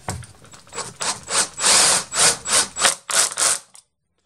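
A screwdriver drives a screw into an aluminium window frame in a series of about ten rhythmic grinding strokes, close and fairly loud, that stop abruptly into silence.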